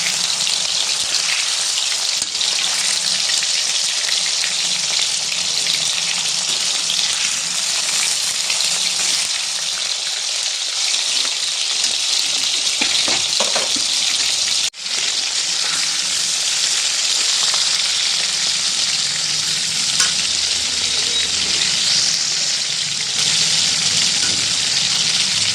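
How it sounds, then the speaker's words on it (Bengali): Tikki fry in reused oil in an iron wok, giving a steady, loud, close sizzle with fine crackle that carries on unbroken, a soft clink partway through and no talking. "এখানে টিকি ফ্রাই করা হচ্ছে ওই তেলেই, যেটাতে বিট বলস করা হয়েছিল ফ্রাই।"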